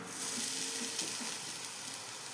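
Grated coconut sizzles steadily in a hot wok over a gas flame, a continuous bright frying hiss with faint stirring scrapes, close and alone.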